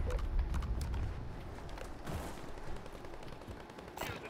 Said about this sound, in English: I hear shooting over here on the highway.